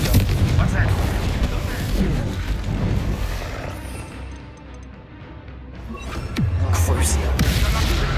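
A Confringo fire spell bursts in Hogwarts Legacy combat, heavy booming blasts and crashes that fade mid-clip and then return loud, with voices calling out spells.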